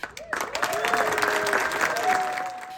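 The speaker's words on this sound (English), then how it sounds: "featuring the loudest applause for North Las Vegas's new mayor" Crowd applause at a mayoral inauguration ceremony for North Las Vegas's new mayor, a dense sustained clapping wash with cheering voices rising over it, loud and steady throughout.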